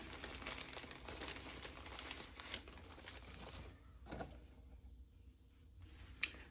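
Crinkling of a thin biodegradable plastic package being opened, dense rustling for several seconds that drops to near quiet, then one or two sharp crackles, close and soft.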